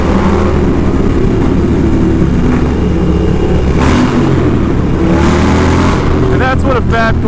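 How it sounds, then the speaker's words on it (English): A carbureted Dyna motorcycle with a Fab 28 exhaust roars through New York City traffic. The engine drone is loud and close, nearly constant throughout, with a few sharper rising notes near the end. "that's what a Fab 28 sounds like. On a carbureted DX."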